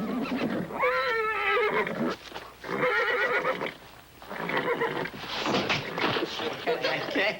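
A horse whinnies loudly and up close, giving several long, wavering neighs one after another, with short pauses between them.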